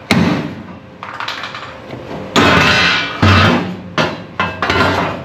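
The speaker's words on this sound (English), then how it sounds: "I put a nice center punch hole right there in the middle of said spot weld you need to cut" A hammer strikes a center punch against sheet metal on a Bronco body, marking a spot weld: a handful of sharp, loud metallic knocks at uneven intervals in a workshop, the first ringing briefly.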